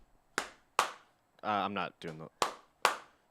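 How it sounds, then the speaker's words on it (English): Sharp hand claps trying out a clap-on, clap-off light: two claps, a short burst of talk, then two more claps, close and crisp. "I was thinking clap on, clap off"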